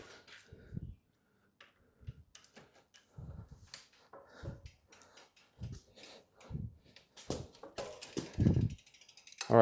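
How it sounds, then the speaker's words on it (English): Wrench work on old bicycle pedals, with a string of short metallic clicks and ratcheting taps, close and fairly quiet with gaps between them and a louder clank near the end. "to remove the old pedals, you need a tool that kind of looks like this, or a hex wrench that will fit the old pedals"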